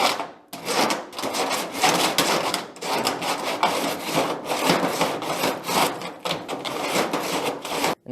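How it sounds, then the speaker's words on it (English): A metal surface on a home-built Cessna 172 cockpit nose is hand-sanded with Scotch-Brite or sandpaper, a close, steady rasping scrub in repeated back-and-forth strokes with brief pauses between passes. "I just get a Scotch-Brite or sandpaper, whatever you're using."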